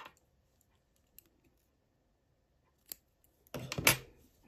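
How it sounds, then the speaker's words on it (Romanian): Scissors snip crochet thread close by, one crisp, brief cut near the end, after a few faint clicks in near silence. "Fac un ochi de lanț aici, îmi tai ața."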